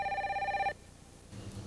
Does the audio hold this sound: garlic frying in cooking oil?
no